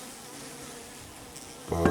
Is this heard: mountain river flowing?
no